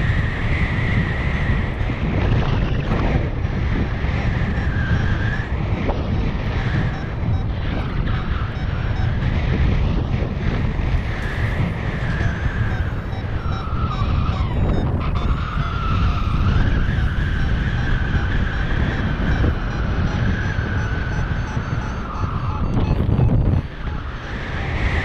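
Wind roars past the microphone during a summer cross-country paraglider flight, a loud continuous rushing buffet that rises and falls slightly over the whole stretch, with no voices.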